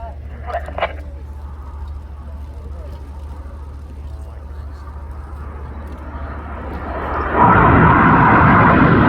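Red Arrows jets fly the Tempest manoeuvre at the Royal International Air Tattoo, a low jet rumble building steadily until a loud close roar surges in over the final seconds, with a commentator's voice at the start.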